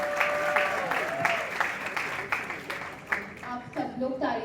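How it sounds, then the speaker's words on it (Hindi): Applause from an audience at a qawwali music event, a steady wash of clapping with a voice speaking over it and music tones drifting in. "एक बार जोरदार तालियां"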